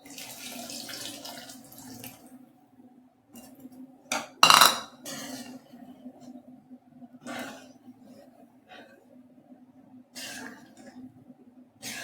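Tamarind water is poured into sambar in a home kitchen, with splashing and running-water sounds in bursts. One louder, clattering moment stands out among softer pot and utensil noises.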